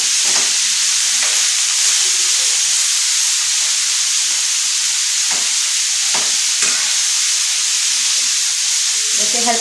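Fatty minced mutton keema fries on a tawa over low heat and is stirred with a knife rather than a spoon. A loud, steady sizzle and hiss runs throughout, close up, broken by occasional light scraping clicks from the stirring.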